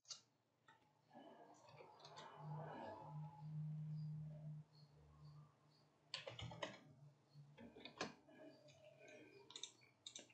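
An email address is typed on a computer keyboard in quick bursts of small key clicks, faint and close, with a low steady hum and some soft background sound behind it.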